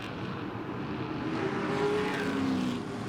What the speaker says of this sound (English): Great sound as they thunder down the main straight.